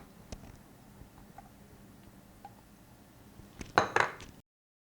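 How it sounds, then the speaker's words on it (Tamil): Arrowroot flour stirred into water in a bowl for poppy seed porridge, heard as a short burst of spoon clinks and scraping against the bowl near the end, close and moderately loud after quiet kitchen background. "இந்த ஆரூட் மாவை தண்ணியில் ஃபஸ்ட்டு கட்டி இல்லாமல் கரைச்சிக்கலாம்"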